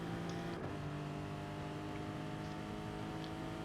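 A Porsche race car engine in Gran Turismo Sport drones at a steady, fairly quiet pitch with a harmonic whine, briefly blipping near the start, with no talk.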